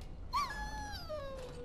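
A puppy in the Dragon Age: Origins video game whimpers once in a thin, high, falling whine. It is close, fairly quiet and alone, with no talk over it.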